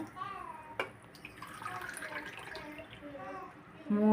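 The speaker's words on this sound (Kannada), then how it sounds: "3 ಲೋಟ ನೀರು ಹಾಕಿದ್ದೀನಿ" Water pours into a pan holding sugar for gulab jamun syrup, a soft splashing stream close by after a sharp knock, with faint background murmur.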